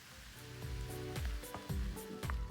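Tomatoes, tamarind paste and onions sizzle softly in a pan while being stirred. A steady, quiet frying hiss is broken by repeated low scraping knocks of the stirring utensil, and no one speaks.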